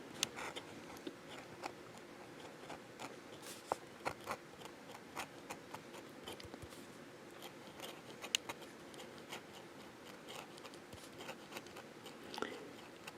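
A Zenzoi fountain pen, its nib turned upside down, scratches and drags across paper in a steady, close-up rasp scattered with small ticks and catches, with no talking.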